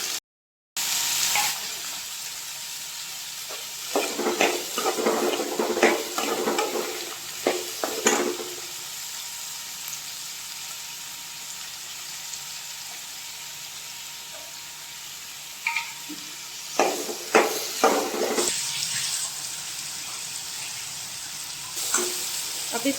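Carrots and spices frying in a pan over onions, a constant close sizzle broken by bursts of stirring and scraping in clusters, no talking.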